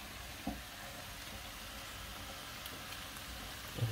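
Julienned vegetables with garlic and herbes de Provence sizzling in a frying pan, a steady bright hiss with a few soft knocks as they are stirred, no talking.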